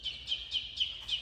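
Week-old laying hen chicks chirping close by, a run of about five high, thin peeps spaced at a quick, regular pace over soft background noise.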